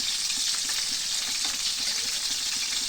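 Shrimp frying in a hot pan give off a loud, steady sizzle with crackling pops that carries on unbroken throughout, with no voices.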